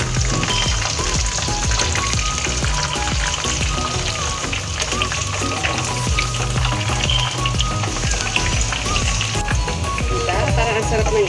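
Tofu frying in hot oil gives a loud, continuous close sizzle with crackling pops throughout, and a voice talks faintly underneath.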